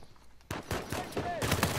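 Gunfire in a video game erupts as a dense, rapid barrage of close, loud shots in bursts that keep going to the end.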